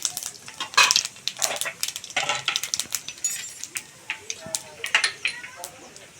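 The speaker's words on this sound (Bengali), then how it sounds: "ওই একই তেলের মধ্যে দিয়ে দিচ্ছি একটু সাদা জিরের ফোড়ন আর একটা তেজপাতা" Cumin seeds and a bay leaf crackle and sizzle in hot oil used for frying potol, a busy spattering hiss with sharp pops and light clinks of a utensil against the pan, moderately close.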